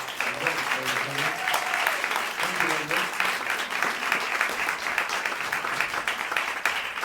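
Audience applause for a jazz quartet at a live concert at NYU Casa Italiana fills the room steadily from start to finish, with a voice speaking over the clapping near the start.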